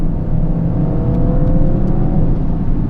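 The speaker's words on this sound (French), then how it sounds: "D'une pression sur la palette de gauche, je rétrograde et je me mets en manuel." Inside an Audi RS, the engine hums steadily and rises slightly in a smooth rev, heard close and alone from the cabin as the car is downshifted with the left paddle.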